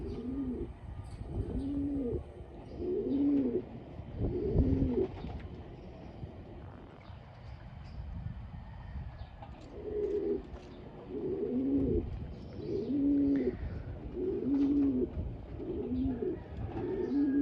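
Pigeons cooing in repeated soft, rolling phrases, several birds close by, with a short pause midway and faint chirps in the background.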